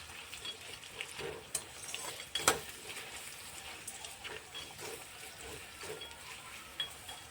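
Onions frying in a pot for vegetable pulao give a soft, steady sizzle with occasional stirring clinks and scrapes, close but quiet.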